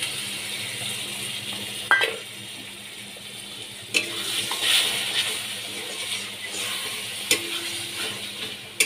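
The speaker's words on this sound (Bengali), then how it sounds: "ভালো করে আমি কষিয়ে নিচ্ছি।" Ground melon seed and ginger paste sauté in a pan for paneer curry, producing a continuous sizzle with occasional spoon scrapes and clanks against the pan and no voices.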